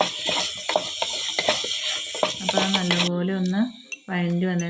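Onions and tomatoes sautéing in a pan, stirred hard so a spoon scrapes and clinks against the metal over a low sizzle, loud and close, with a brief drop near the end.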